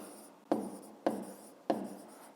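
A pen or pencil writes on paper in three short, distinct scratching strokes, evenly spaced about half a second apart, close and quiet.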